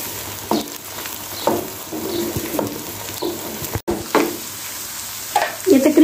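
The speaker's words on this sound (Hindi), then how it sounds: "तो अदरक लहसुन के पेस्ट के साथ ही तकरीबन मैं इसका 3-4 मिनट लगा अच्छे तरीके से भूनूंगी" Onions frying in a pan with ginger garlic paste for a masala mutton brain dish, giving a steady close sizzle broken by scraping stir strokes about once a second, with faint bird coos in the background.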